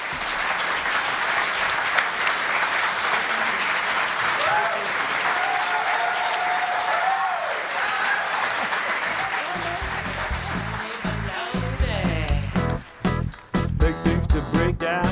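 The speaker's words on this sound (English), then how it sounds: "Let's have another round of applause for all the performers tonight." A large audience applauds steadily and loudly, with cheering mixed in, before the clapping breaks up into scattered claps at the end.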